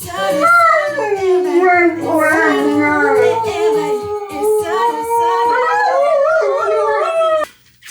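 A dog howls a long, wavering song up close and loud, the pitch rising and falling for several seconds before cutting off abruptly, with music playing underneath.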